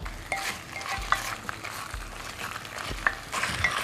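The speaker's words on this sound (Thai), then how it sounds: "โอเคผัดต่อครับเพราะเราไม่อยากใส่น้ำตอนนี้ เพราะเราผัดหมูยังไม่หอมครับ" Pork ribs stir-fried in a pot for Thai cauliflower curry, a steady oily sizzle broken by repeated scraping strokes of a spatula against the metal, close and fairly loud with no talk.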